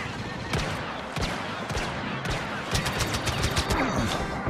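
Rapid bursts of blaster gunfire in a Star Wars: Battlefront match, with repeated sharp shots and volleys throughout, loud and close, mixed with game effects.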